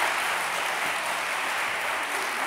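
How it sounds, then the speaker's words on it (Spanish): A studio audience on a Spanish comedy show claps in a steady, dense burst of applause, close and continuous with no talk over it. "Un aplauso para él, por favor."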